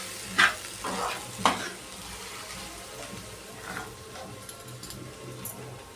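Onion fries in oil until browned, giving a quiet, steady sizzle. A few sharp scrapes of stirring stand out, the loudest two near the start, with no talk.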